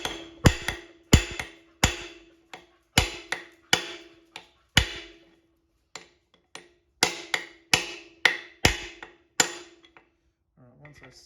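Hammer blows drive parts into a Holden Grey motor during a rebuild, sharp metallic strikes landing in irregular clusters of two and three with brief pauses, close and distinct against a quiet background.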